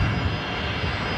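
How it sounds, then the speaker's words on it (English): A Qantas A321XLR airliner lands at Brisbane Airport, its steady engine roar and broadband rumble filling the clip from start to finish without a break, near and loud, with no talk over it. "It's going to be butter landing, or it's going to drop."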